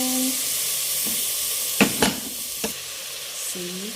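Native chicken fries in a pan with garlic and onion, giving a continuous close sizzle broken by a few sharp stirring scrapes and clinks.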